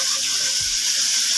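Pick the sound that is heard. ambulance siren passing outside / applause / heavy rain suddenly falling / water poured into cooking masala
water poured into cooking masala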